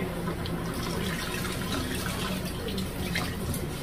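Water pouring from a tap into a cooking pot, a steady, continuous rushing splash at moderate level with no voices over it.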